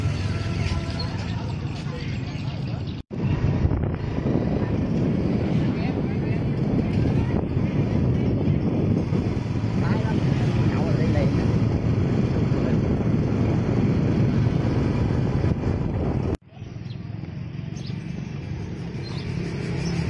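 Ngo racing boats practicing on the Maspero River in Soc Trang ahead of the 2019 season, heard as a continuous broad rush of water and wind, loud and steady throughout with brief interruptions.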